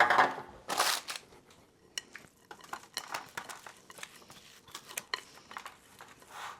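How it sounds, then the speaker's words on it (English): A spoon or spatula presses and scrapes a sticky scotcheroo cereal mixture into a prepared pan, giving irregular close scraping, tapping and crunching sounds with no voice. "we're going to press that into the pan we prepared"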